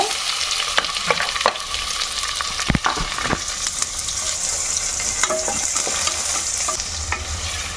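Onions fry in ghee with cloves and cardamom, a loud close sizzle broken by repeated clinks and scrapes of a spoon stirring the pan, with no voices.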